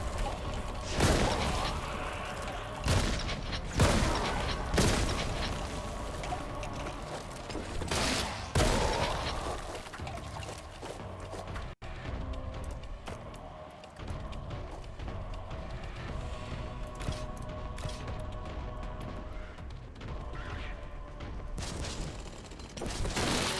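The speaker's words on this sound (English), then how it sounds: "Again with the grenades." Grenade blasts and sustained gunfire fill a Warhammer video game battle. The rumbling, crackling combat runs dense and continuous for the whole stretch, with repeated bursts and no talk.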